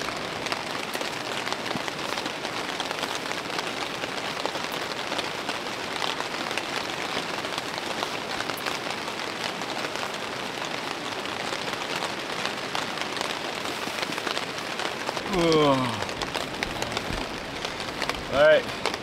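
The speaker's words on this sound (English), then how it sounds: "And it's raining quite a bit, so we're just gonna hang around here by the fire for a bit" Heavy rain falling at a riverside campsite by a campfire, a continuous dense patter on surfaces with faint crackling mixed in, steady and close.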